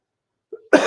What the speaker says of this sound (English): It's like a sneeze cough coming.